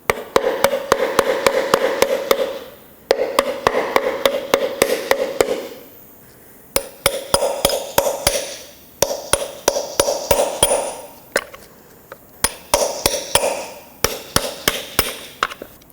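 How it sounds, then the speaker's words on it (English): A hammer pounds a stuck blower motor out of a 2007-2009 Saturn Aura in loud, rapid bursts of ringing metal blows, broken by short pauses, close by and with no voices. "try to hammer this out."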